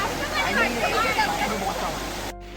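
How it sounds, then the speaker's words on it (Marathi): A waterfall on a monsoon trek near Panvel pours in a steady, broadband rush that fills the scene at close range, briefly cut off near the end. "आणि धबधबा समोरच आहे"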